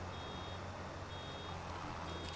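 Faint, regular electronic reversing beeps sound over a steady low engine rumble, like a heavy farm vehicle backing up in Farming Simulator 25.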